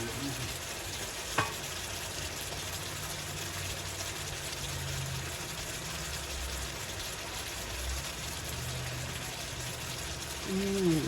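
Small-cut bulgogi beef frying in a pan, giving a steady, close sizzle through the whole stretch, with one sharp utensil tap and a voice briefly heard near the end.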